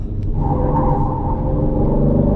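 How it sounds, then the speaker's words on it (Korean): A 665 hp rear-wheel-drive Aston Martin Vantage in its default sport mode holds a loud, steady, deep engine rumble from close by, no voices over it. "665마력 후륜구동 에스턴 마틴 벤티지입니다"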